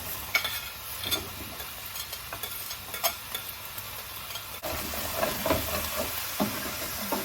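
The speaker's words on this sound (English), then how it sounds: "Just give them a good stir." Vegetables and tomatoes stirred in a pan make a low simmering sizzle broken by repeated scrapes and clacks of the spoon, moderately close and with no one talking.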